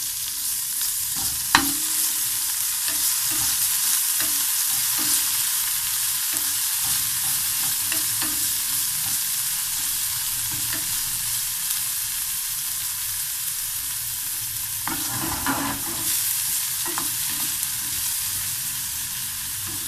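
Tomatoes and spinach sautéing in a pan, a steady broad sizzle running throughout with soft stirring scrapes and occasional clinks of a utensil against the pan, close and alone with no talking.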